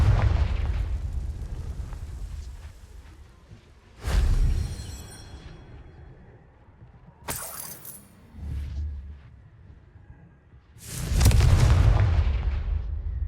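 Confringo blasting spells in Hogwarts Legacy explode in three sharp, loud bursts a few seconds apart, each with a booming low tail, between quieter stretches of rumbling game noise.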